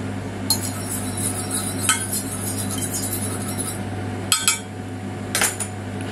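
Metal utensil stirring a little water in the bottom of a pan, giving a few light clinks and scrapes at scattered moments over a steady background hum.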